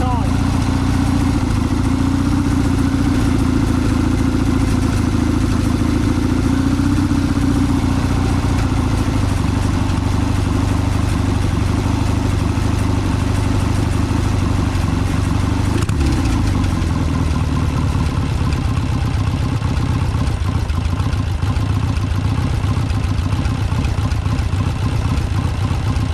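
A Triumph Bonneville T140V twin with Amal 930 Concentric Mk1 carburettors revs steadily while its slide screws are adjusted for balancing, a close continuous mid-pitched engine note with a slight rise and dip, and someone speaks over it at times.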